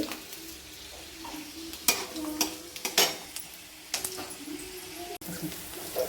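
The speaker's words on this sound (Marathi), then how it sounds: "जिरे मोहरी फोडणी केली" Cumin and mustard seeds sizzle and crackle in hot oil for upma, with sharp intermittent pops and metal spoon scrapes against the pan, close and moderately loud.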